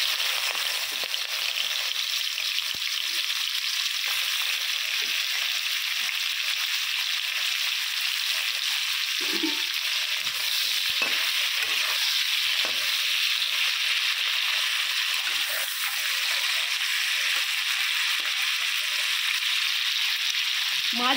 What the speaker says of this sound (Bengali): এবারে লবণ আর হলুদ মাখানো চিংড়ি মাছটা আমি দিয়ে দেবো।